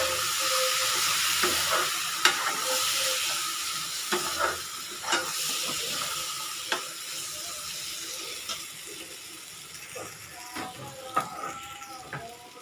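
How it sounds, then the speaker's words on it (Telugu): Gongura paste, water and masala being stirred in a pan with a spoon, giving soft wet scraping and occasional clinks against the metal over a faint simmer, with no one talking. "ఒకసారి దీంట్లో కలిపేసాం"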